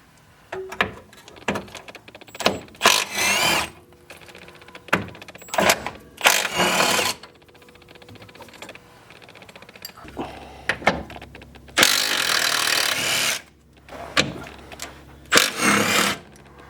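Bolts are removed from a Subaru steering bushing with a power tool, sounding as repeated loud buzzing bursts of varying length separated by quiet clanks and handling noises, close up.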